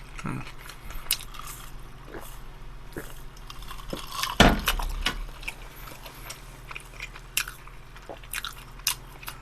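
Biting into and chewing a Lotteria bulgogi burger close up: one soft crunchy bite in the middle, surrounded by wet chewing and faint clinks of packaging or utensils, with no talking.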